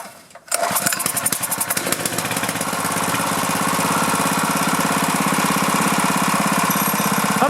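A small engine on a lawn equipment machine sputters and catches with the choke on, then settles into a loud, steady, fast-running drone close by, with no voices.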